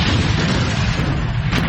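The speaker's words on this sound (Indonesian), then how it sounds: "Ledakan keras terjadi" A loud, dense explosion sound effect roars in a continuous broad blast for under two seconds, with no voices.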